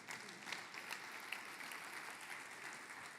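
Faint, distant audience applause during a faith-themed talk, a steady wash of many hands clapping at low volume for about three seconds.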